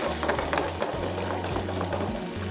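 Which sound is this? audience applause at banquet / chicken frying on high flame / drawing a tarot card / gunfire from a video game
chicken frying on high flame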